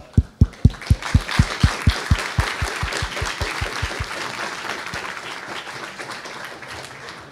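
Conference audience applause opening with a run of loud, evenly paced rhythmic claps close by, then settling into a softer, diffuse crowd clapping that fades toward the end.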